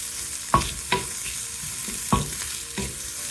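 Green chilies, onion and carrots sauté in hot oil, giving a soft steady sizzle punctuated by four or five sharp spoon knocks against the pan as the vegetables are tossed.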